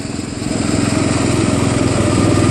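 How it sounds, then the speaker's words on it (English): A salvaged Craftsman LTV 10 Varidrive lawn tractor engine runs loud and close with a steady, rapid, throbbing small-engine putter and no voices. "It's running! My Craftsman Ltv 10. Varidrive."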